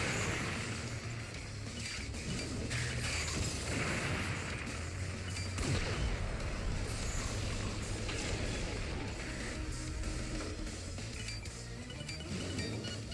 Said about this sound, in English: Enemy missile closing in. Contact!